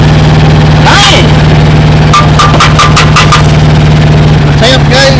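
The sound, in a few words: squarebody truck engine idling high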